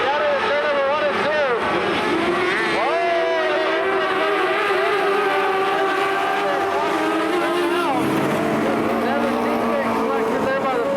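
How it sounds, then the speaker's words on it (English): Mini late model race cars roar down the front straight at Barona Speedway, a loud layered engine drone with rising and falling revs as the pack passes, under continuous announcer commentary. "Down the front straight, Mabbitt with a good jump."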